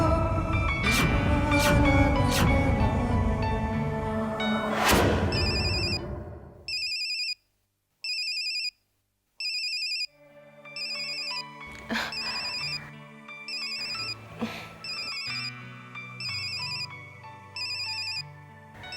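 Phone ringtone repeating in regular electronic bursts, loud and close, after a stretch of background music in a Hindi drama scene.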